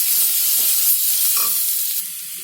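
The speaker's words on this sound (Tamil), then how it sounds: "இப்போ இதை நல்லா கிளறி விடணும்" Masala stirred in hot oil in a pan for idli kurma, a bright continuous sizzle with scraping strokes of the spoon, close and loud, easing slightly toward the end.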